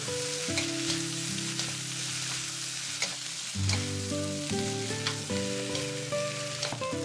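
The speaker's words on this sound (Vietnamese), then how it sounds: "Sau đó thì mình cho mì đã trộn vào, xào đều lên." Noodles and sausage stir-frying in a pan make a steady, close sizzle with scraping stirs, heard alone under a tonal musical background.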